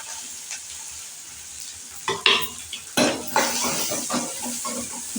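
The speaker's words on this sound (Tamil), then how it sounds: "நல்லா வதக்கி விட்டுருங்க." About ten finely chopped small shallots sauté in hot oil for a curry-leaf kuzhambu, a steady sizzle broken by scraping stirs and clinks of the spatula against the pan.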